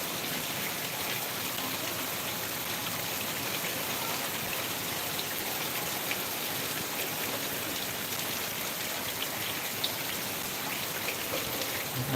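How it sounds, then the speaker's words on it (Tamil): Steady, dense rainfall with wind pours down without a break in Tiruchirappalli, India, a broad even hiss of drops hitting surfaces, with no voices. "செம மழை நல்லா சில்லுன்னு காற்றும் ரெண்டும் சேர்ந்து ஹாப்பியாக இருக்குது"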